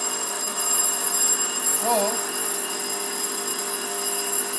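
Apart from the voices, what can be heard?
electric call bell ringing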